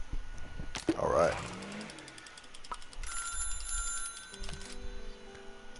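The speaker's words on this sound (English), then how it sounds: "Let's go ahead and head over to the phone." In-game telephone ringing in the management sim Little Big Workshop, a few bright repeated rings sounding against background game music and ambience, with no talk over it.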